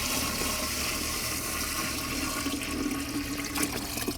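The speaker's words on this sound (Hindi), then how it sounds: "दिखाना ड्रम के अंदर पानी डालते हुए" Water pours steadily into a 20-litre drum, about 15 litres going in to make an organic banana-peel fertilizer; a continuous, rushing splash with no voices.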